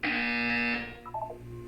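A harsh, buzzing electronic buzzer sounds loud and steady for under a second in the video game Portal 2, then cuts off and leaves a faint electronic tone behind.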